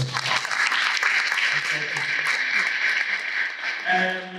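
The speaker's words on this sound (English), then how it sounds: "Can you give a round of applause for those people?" An audience at a Day of the Seafarer 2022 event in Durban applauds, with dense continuous clapping that fills the whole stretch before tapering near the end, as a voice begins over it.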